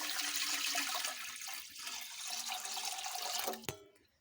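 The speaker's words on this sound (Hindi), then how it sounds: "अब हम इतना पानी डालेंगे कि हमारा वो जो स्टैंड है वो बीच में डूबे ना।" Roughly two litres of water pour from a tap into a cooking pot, a continuous gurgling splash that fades out. A short clank near the end sounds like the pot being moved.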